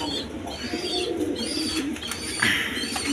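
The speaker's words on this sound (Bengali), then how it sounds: "বন্ধুগণ এখানে এক পেয়ার বিউটি কবুতর আছে" A pair of black beauty pigeons coo softly and steadily at close range, with faint chirps over a low background hum.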